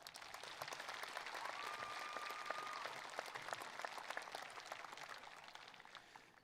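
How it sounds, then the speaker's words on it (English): Sustained applause from a large audience at a commencement ceremony, a dense steady patter of many hands clapping that holds evenly for several seconds at a moderate distance. "please acknowledge these dedicated individuals with your applause"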